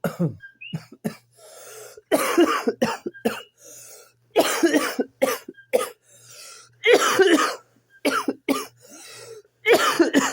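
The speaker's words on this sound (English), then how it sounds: "that's a minor coughing." Repeated fits of harsh coughing, close to the listener, come in clustered bursts separated by brief pauses, continuing for several seconds.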